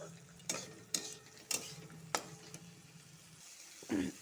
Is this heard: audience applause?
no